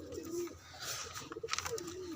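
A frightened pigeon coos softly in a short, low burble, close by, with faint background noise and no talk.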